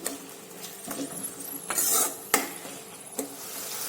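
Paneer bhurji vegetables being stirred in a pan, with a spoon scraping and clinking against metal in several distinct strokes over a soft background sizzle, close and fairly quiet.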